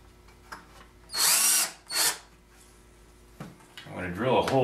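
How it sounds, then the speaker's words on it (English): Two loud bursts of a power drill whirring as it drills holes in the feet of a sculpture armature, each lasting under a second, followed by a person starting to talk. "I'm going to drill a hole in each foot"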